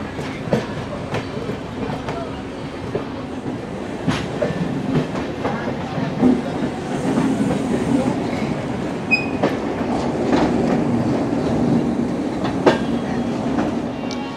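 The Howrah–New Delhi Poorva Express rolls past on the adjacent track at Howrah station, heard from aboard another train: a continuous heavy rumble with rhythmic clickety-clack of wheels over rail joints and faint squeals, loud and close throughout.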